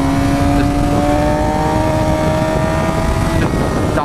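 A 2013 Suzuki GSX-R 750 sports bike engine pulls steadily while riding, a loud, close, continuous buzzing drone with rising pitch as it accelerates and wind roar mixed in.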